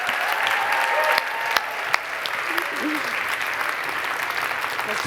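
An audience at a PEN World Voices Festival 2019 lecture breaks into dense, sustained applause, loud and close, with a few sharper claps standing out and brief voices underneath.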